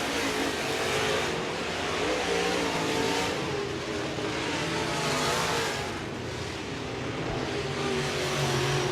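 Race cars roar through a heat race on an oval track, engines droning steadily and continuously at close range with rising and falling revs as the pack passes, no voices over the engine noise.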